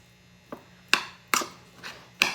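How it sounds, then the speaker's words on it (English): A knife chops through cooked eggs on a cutting board, giving a handful of sharp, irregular taps spaced a fraction of a second apart, close and crisp over a quiet kitchen background. "I'm just coming in and I'm chopping up these eggs"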